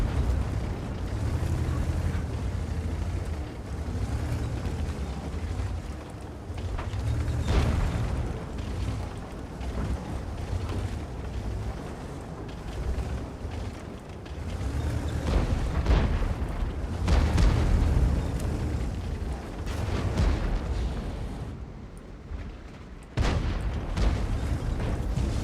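Tank guns fire and shells explode in World of Tanks: deep booming blasts and rumbling bursts recur across a sustained, heavy low roar, some blasts sharp and close, others duller, with no talk heard.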